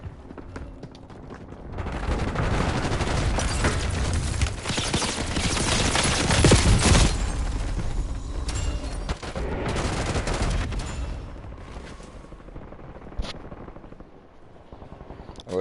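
Heavy gunfire in the video game Black Ops 6 Warzone: sustained, dense automatic bursts and overlapping shots rage for most of the stretch, loud and close, thinning out toward the end with a few isolated cracks.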